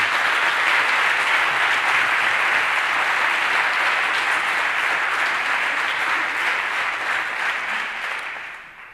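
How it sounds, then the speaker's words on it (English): A crowd breaks into a long, loud round of applause, a thick, even roar of clapping that holds strong for several seconds before tapering off near the end. "can we give them a round of applause right now?"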